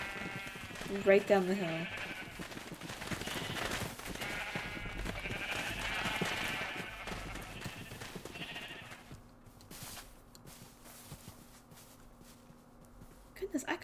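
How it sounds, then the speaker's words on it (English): Sheep bleating on a sheep farm in the Minecraft video game, a few wavering bleats early on over footsteps and game ambience, with someone talking throughout. "Okay, so the sheep farm is here."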